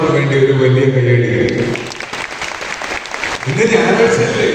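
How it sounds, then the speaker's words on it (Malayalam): An audience claps for children receiving excellence awards at a ceremony. The applause is a brief burst of mid-level clapping in the middle, with a voice speaking before and after it. "ഒരു വലിയ കയ്യടി"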